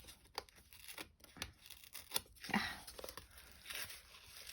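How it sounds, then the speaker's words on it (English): Layers of a cardboard box are peeled apart by hand for a craft project, giving close, quiet rips and tearing strokes in irregular bursts with soft crinkles between them and no speech. "it is a little easier to peel back from this direction."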